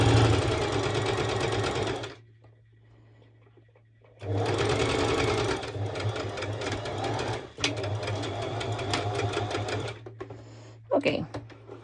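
A sewing machine stitches fabric for a wrap dress beach cover-up in loud, steady runs, pausing once for about two seconds, then resuming with brief stops and a few clicks near the end.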